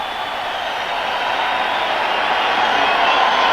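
Hockey arena crowd at an NHL Devils–Bruins game in Boston, a steady broad roar of cheering that swells slightly as it continues.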